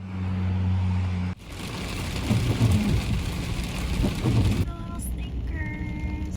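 Heavy rain drumming loudly on a van roof during a drive in California, a steady dense roar with engine rumble underneath, easing briefly before continuing; faint tones chime near the end.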